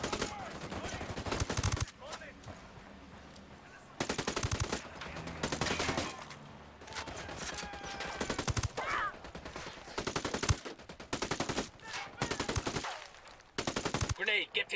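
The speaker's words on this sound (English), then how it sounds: "Opening fire." Heavy automatic gunfire erupts in a Ghost Recon Wildlands firefight, loud sustained machine-gun bursts and rapid shots with short pauses between volleys, close and dense throughout.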